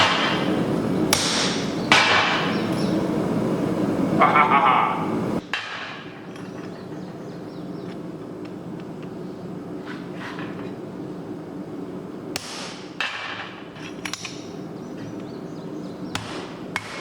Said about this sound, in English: I was able to do that with 2 hits from my hammer